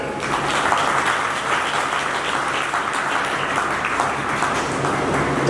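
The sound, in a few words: applause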